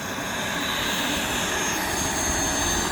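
A homemade turbo burn barrel jet engine on a boat roars in a steady, loud, continuous whoosh with a broad rushing hiss, running alone without voices.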